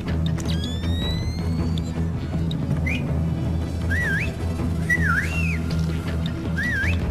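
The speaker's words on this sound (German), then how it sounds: "Pfeifen macht sehr viel Spaß." A character in the stealth game Splinter Cell Pandora Tomorrow whistles short rising and wavering notes, several separate phrases spread over a few seconds, over a steady low game ambience and hum.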